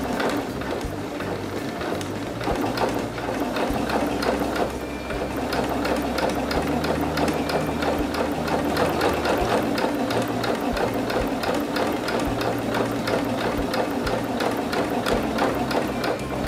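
A sewing machine stitches fabric along a guideline in a fast, steady mechanical chatter, close and loud, with a brief slowdown partway through before running evenly again.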